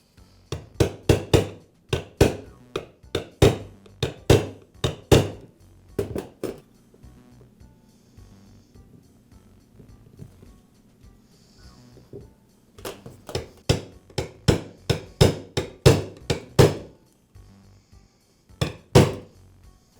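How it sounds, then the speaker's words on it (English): A hammer strikes a punch to tap a nut into a replacement DeWALT impact driver housing, making sharp, close metallic taps in quick bursts of several blows separated by quiet pauses. "and a punch and hammer to tap it into place."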